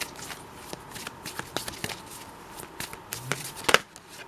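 Tarot cards are shuffled and drawn by hand, a string of quick, close papery riffles and snaps in irregular bursts, with a sharper flurry of flicks near the end.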